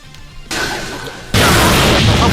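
Fire spell effect from an Itachi mod in GTA San Andreas, a loud roaring whoosh that swells in two abrupt stages and stays dense and booming to the end.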